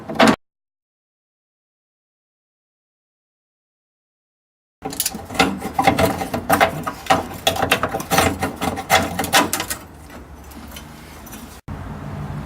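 A ratchet works loose the single bolt on the driver's side fuel tank strap of an 85-97 Mustang GT, a close, busy run of clicking and mechanical rattling after a long stretch of silence.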